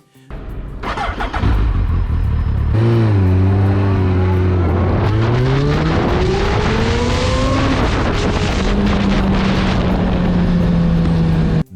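A Suzuki Hayabusa sport bike engine starts, then revs loudly and climbs through rising and falling pitches before settling into a steady high drone, heard close and alone.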